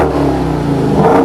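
A Dodge Demon muscle car engine revs loudly and continuously up close, a deep mechanical roar that rises and holds for about a second.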